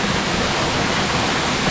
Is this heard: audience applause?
no